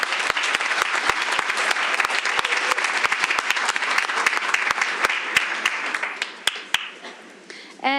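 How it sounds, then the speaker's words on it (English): Loud round of audience applause at a school board meeting honoring teachers, many hands clapping with sharp individual claps standing out, tapering near the end as a voice begins. "let's give them another round of applause"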